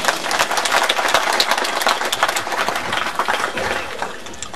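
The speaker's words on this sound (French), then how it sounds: "je vous demande de l'applaudir" A crowd at a charity gathering applauds a speaker, producing a loud, continuous crackle of many hands clapping close by, sustained without pause and with no voices over it.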